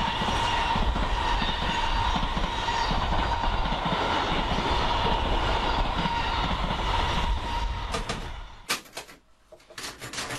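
An SNCF BB 16500 electric locomotive runs along the rails, a sustained rumbling roll with faint rhythmic clatter that fades away, followed by a few sharp metallic clicks and knocks at the end.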